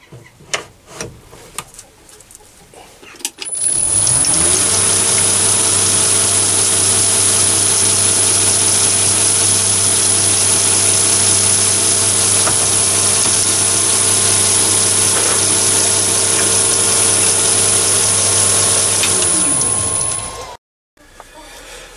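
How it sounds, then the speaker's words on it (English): A loud power drill bores through a tube, whining steadily for about seventeen seconds, a high constant tone with a buzzing motor, starting abruptly and cutting off near the end. "So now I'm going to drill down through for the electronic charging port"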